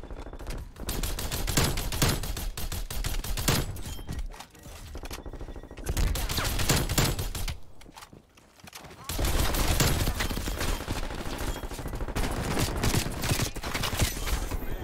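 Rapid gunfire in the shooter Call of Duty Cold War during a match with a DMR rifle, loud dense bursts of shots with brief pauses between volleys, close and continuous throughout.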